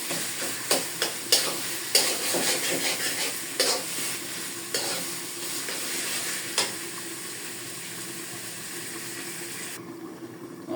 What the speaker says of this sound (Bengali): এটা আমার মাছটা কষিয়ে নিতেছি